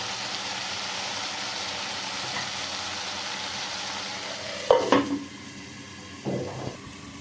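A steady, loud sizzling hiss of frying in a wok fills the whole stretch, broken near the end by a couple of short scraping, stirring clatters.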